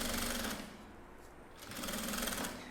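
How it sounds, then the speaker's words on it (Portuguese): Sewing machine stitching nylon-polyester thread through fabric, a fast rattling run that pauses briefly and then resumes, close and steady. "Vou para a máquina e já vou passar uma costura"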